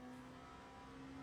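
An LMP2 prototype race car in a racing simulator game accelerates, its engine giving a steady, loud, tonal drone that holds at a constant pitch through a short burst.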